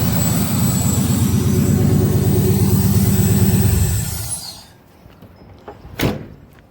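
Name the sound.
350 TPI car engine running rough, stumbling and missing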